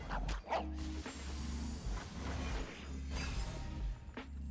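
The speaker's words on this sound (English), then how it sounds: "There's a doggo." A dog in the Legends of Runeterra card game barks and yips a few times in short bursts over a low, looping game music bed.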